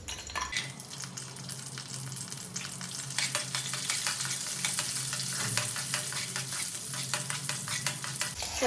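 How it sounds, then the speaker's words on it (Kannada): Cashews and raisins frying in hot ghee give a steady, dense crackling sizzle, with quick stirring clinks and scrapes sounding close over it the whole way through. "ಸೊ ನಾನು ಗೋಡಂಬಿ ಮತ್ತು ದ್ರಾಕ್ಷಿ ತೊಗೊಂಡಿದ್ನೆಲ್ಲ ಸ್ವಲ್ಪ ಫ್ರೈ ಮಾಡ್ಕೋತೀನಿ."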